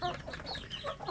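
Indonesian free-range village chicks, grown enough to reach feed set along the pen edge, cluck and peep in short scattered bursts close by, fairly soft, with no talk.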